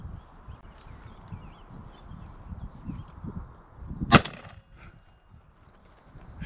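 A single loud shotgun blast from a Beretta A400 or Winchester SX4 rings out during pigeon shooting over a bean field, a sharp close report rising out of steady outdoor wind noise.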